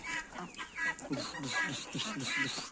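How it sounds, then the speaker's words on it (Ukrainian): A turkey hen sitting on eggs pecks at food and gives repeated soft clucks and chirps up close, with someone talking over them. "А ось вийшла наша індичка, яка сидить на яйцях. Дивіться, як їсть."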